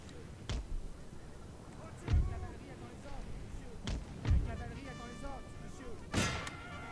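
Musket gunfire from a Napoleon: Total War battle, with distinct sharp shots spaced a second or two apart, some louder and closer than others, over a quiet background of battle ambience and faint voices.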